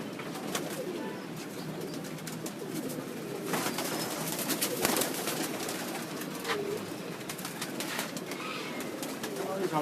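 Teddy pigeons on a household rooftop cooing repeatedly in soft, low, rolling calls over a busy background hum, with voices talking nearby.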